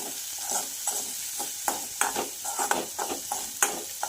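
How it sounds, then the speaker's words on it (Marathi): A mung dal and wheat flour matari mixture frying over a medium gas flame, soft steady sizzling punctuated by repeated scraping stirs and small clicks of a spoon against the pan. "छान एक ते दीड मिनिट याला फ्राय करून घ्यायचं आहे मीडियम गॅसवर"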